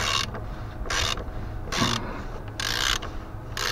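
A ratchet on an extension bar loosening the oil drain plug of an Audi A3 8V 2.0 TDI, several short bursts of close, rapid clicking separated by brief pauses.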